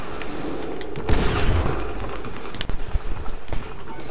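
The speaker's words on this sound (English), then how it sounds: "I hear Chris being shot at." Gunfire in Fortnite, a loud burst of shots followed by scattered sharp cracks amid steady wind-like background noise, no talking.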